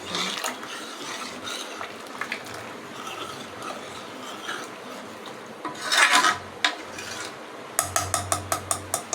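Stirring and mixing in a cooking pot while preparing a Tamil home dish, with scraping and clinking of a utensil against the pot, a louder burst near the middle and a closing run of rhythmic taps, no talking.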